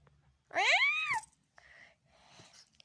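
A single drawn-out cat meow, close and clear, followed by a couple of softer, muffled rustling sounds.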